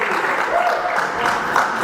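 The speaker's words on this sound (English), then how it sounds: "Need this crowd all the time, they're loud." A wrestling crowd at a UK Wednesday-night show applauds loudly and steadily, with dense clapping that holds without a break.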